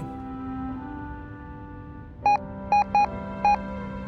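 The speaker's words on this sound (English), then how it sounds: "Oh, that sounds like Morse code now." Four short, clean electronic beeps in an irregular Morse-code-like rhythm from a signal device in the video game Reverse 1999, sounding over a low steady hum and a faint musical drone.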